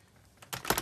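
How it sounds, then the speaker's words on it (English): Scissors snipping along a printed line in thin card for an OO gauge Metcalfe card model building, a couple of close, crisp cuts near the end after quiet. "with a decent pair of scissors, we just need to cut along that line there"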